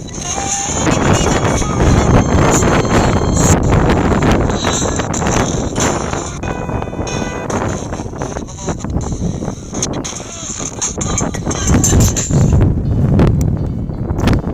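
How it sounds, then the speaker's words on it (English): Strong gusty wind in Ireland buffets the microphone throughout, a loud, rumbling roar with fluctuating intensity and no clear voices. "it is getting quite windy"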